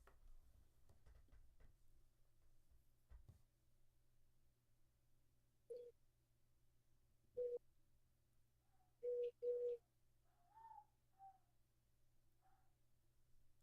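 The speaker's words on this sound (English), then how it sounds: "They must be some kind of dove, like a turtle dove or mourning dove." Soft, low dove coos, likely turtle dove or mourning dove, sound in short separate calls, a pair close together, over a steady low hum with no talking.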